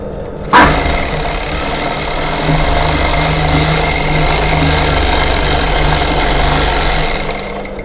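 A sewing machine starts abruptly and keeps stitching a lining joint, a loud, steady motorized whir and hum that runs unbroken for several seconds with no one speaking.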